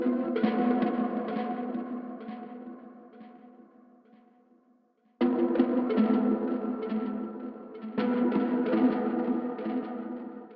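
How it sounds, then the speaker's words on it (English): A harp-like texture layer processed with delay, tape echo and reverb, with trimmed lows, swells as a sustained shimmering wash that fades, then returns in two fresh entries with soft echoing tails. "Then I've got this harp kind of texture layer"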